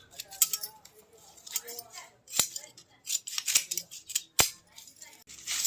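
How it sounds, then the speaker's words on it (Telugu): Scissors snipping tendu leaves for rolling beedis at home, a series of crisp close metallic snips in irregular bursts, with someone talking between cuts. "ఆకైతే ఇలా కట్ చేసుకుంటాం మేము"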